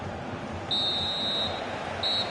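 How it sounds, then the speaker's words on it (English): A referee's whistle in a video game football match, with two shrill, steady blasts, the first long and the second shorter, over a low crowd murmur. "So the whistle then"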